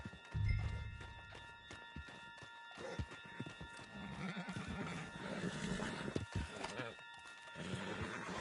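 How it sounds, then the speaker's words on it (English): In the Red Dead Redemption video game, a horse whinnies loudly near the start, followed by hooves clopping and running under ambient game sound. "Put Strauss on the back of John's horse, and let's get out of here"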